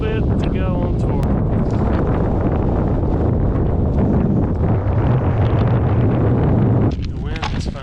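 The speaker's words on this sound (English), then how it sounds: "The wind has finally slowed down a little bit." Strong gusting wind on the saddle between Grays and Torreys peaks roars and buffets the microphone continuously and loudly, with a person speaking over it, then easing slightly near the end.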